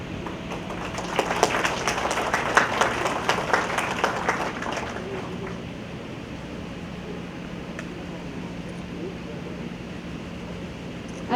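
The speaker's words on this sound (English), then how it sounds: "let us give our awardee a big round of applause" An audience at a police award ceremony applauds the awardee, steady broad clapping for about five seconds, then fading into a quiet room hum.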